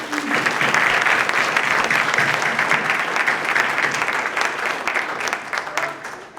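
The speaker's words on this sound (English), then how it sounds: "Let's give him a big round of applause." Loud, close applause from a breakfast audience honouring a community volunteer. It swells quickly and holds as dense clapping, then thins into scattered claps and fades near the end.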